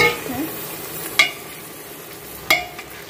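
Mutton trotters are stirred in a frying pot, a low steady sizzle close by with two sharp scraping clinks of the spoon against the pot; no one speaks.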